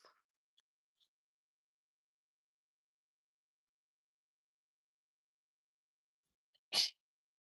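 A single sharp sneeze bursts out near the end of a nearly silent stretch, close and sudden after a few faint clicks.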